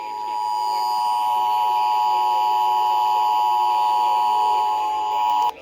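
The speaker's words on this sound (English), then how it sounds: "A coordinated monthly local test of the emergency alert system, originating from local primary." Emergency Alert System monthly test attention tone broadcast on radio, a loud steady dual-tone beep held continuously for about five seconds before cutting off.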